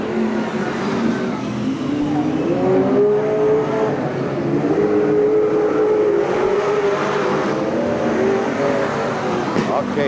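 Street stock cars race around the oval at Merced Speedway under a yellow caution, engines droning and rising in pitch as they circle, a continuous loud roar with a public-address announcer talking over it.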